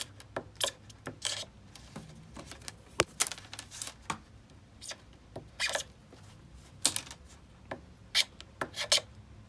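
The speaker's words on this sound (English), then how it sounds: "Really testing the edge here. I'm scraping. See me scraping." Knife edge of K390, Cruwear or S110V steel scraped during a toughness test, giving a run of short, sharp rasping strokes at irregular intervals, close and fairly loud, with no voices.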